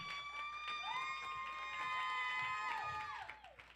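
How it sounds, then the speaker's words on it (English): Students in a financial literacy class clap and cheer for a classmate, with a high whistled or whooping tone held over scattered claps and crowd noise, fairly faint and distant. "Give a round of applause."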